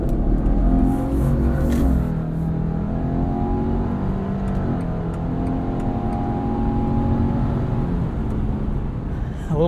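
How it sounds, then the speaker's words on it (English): A 2022 Subaru Outback Wilderness accelerating hard from standstill toward 60 mph onto an entrance ramp, heard from inside the cabin as a loud, continuous engine drone that climbs steadily in pitch, with road and wind noise building underneath. "Let's do a little 0 to 60 here."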